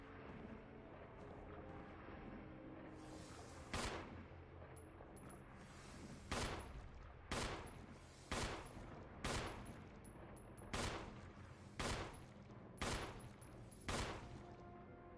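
Repeated gunfire in the Resident Evil HD Remake video game: about a dozen sharp, loud shots at a steady pace of roughly one per second over a continuous dark ambient background.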